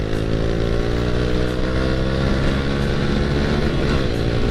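A Honda Astrea Grand motorcycle fitted with a Karisma carburetor revs hard and accelerates, its engine note droning loud and steady with a rising pitch across the whole stretch, with no talking over it.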